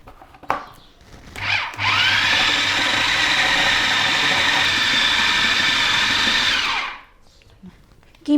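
Electric chopper whirring through chicken keema with salt and garlic paste, a loud steady motor buzz running for about five seconds before cutting off, with brief clatter at start and end.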